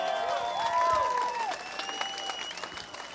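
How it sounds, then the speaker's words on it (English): An audience at an off-road racing series announcement applauds for a rider back after an accident; a short burst of clapping under faint background sound and a loudspeaker tone, fading out over a few seconds. "nice round of applause for Tony Keepers"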